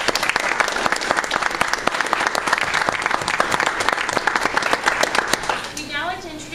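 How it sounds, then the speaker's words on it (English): A university campus audience at a Take Back the Night event bursts into loud, sustained applause of many hands clapping, holding steady before tapering off near the end as a voice begins over it. "give another warm round of applause for the people willing to share their lives with us tonight"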